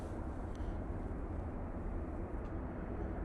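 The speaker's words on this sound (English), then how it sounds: "This is the Ryanair coming in from Belfast." Ryanair plane arriving from Belfast landing at Manchester Airport, a continuous loud low jet roar and rumble, steady and sustained with no voices.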